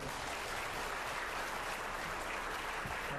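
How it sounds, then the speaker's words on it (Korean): A lecture audience at a university claps in sustained, dense applause after a special talk. The clapping is steady and even throughout, with no one speaking over it. "다시 한번 박수 좀 보내주십시오"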